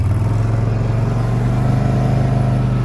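A running SM-002 snowmobile engine, the steady low mechanical drone holding close and loud without a break, with no voices over it.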